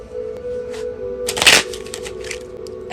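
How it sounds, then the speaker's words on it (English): Tarot cards being shuffled in quick riffling bursts, with a louder, denser flurry near the middle; close and fairly quiet, with no talking. "3 more shuffles."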